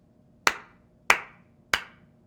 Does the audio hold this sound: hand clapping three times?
yes